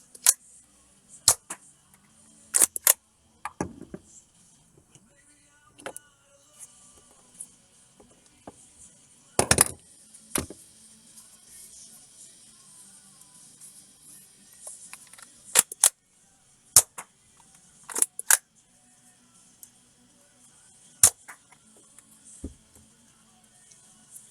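A modified Nerf Baron blaster fires with sharp, close snaps and clicks scattered over a quiet background, each shot brief and isolated, with no talking.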